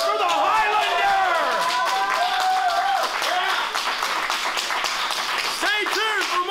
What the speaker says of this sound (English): How about a big round of applause for the Highlander?